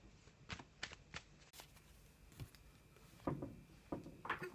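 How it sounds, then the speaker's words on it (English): Tarot cards are shuffled by hand up close in quiet bursts of riffling and soft slapping, several short flurries separated by brief pauses. "Just give them a little bit of a shuffle"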